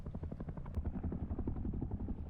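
An attack helicopter in the video game Rust thrums with steady rotor chop, a low pulsing drone that stays continuous and moderately loud throughout, with no talk.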